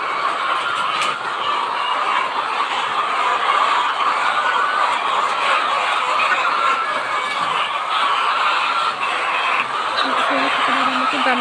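Layer hens on a poultry farm make a steady, dense murmur of clucking and chatter that runs throughout without pause, with a faint voice speaking now and then under the flock.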